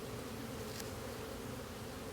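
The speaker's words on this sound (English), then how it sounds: "There's already a good amount of bees, like a good cluster over here." Honey bees clustered inside a hive super give off a faint, continuous buzzing hum, close and steady throughout with no voices.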